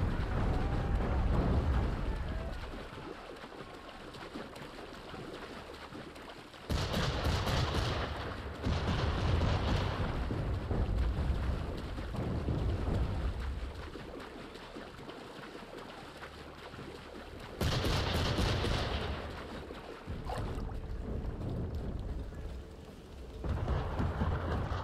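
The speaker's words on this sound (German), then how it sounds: "Er ballert die Kanone mir voll in den Ranzen rein." Cannon fire in Assassin's Creed 3 Remastered: loud booming blasts with broad crashes, two heavy bursts standing out among sustained rumbling battle noise, no talking.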